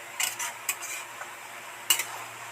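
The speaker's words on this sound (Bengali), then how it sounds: "বন্ধুরা সব কিছু নেড়ে চেড়ে একদম সব কিছু মিশিয়ে দিলাম।" Cabbage and potato curry stirred in a pan, a few sharp scraping clinks of the spoon against the metal over a faint low hum, quiet in between.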